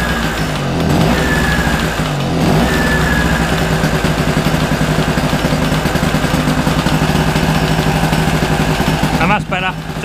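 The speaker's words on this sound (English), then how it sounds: "There's it idling." A Marksman two-stroke petrol generator idling close by after repair, with a steady buzzing, fast-pulsing engine note that holds even, then a brief clatter near the end.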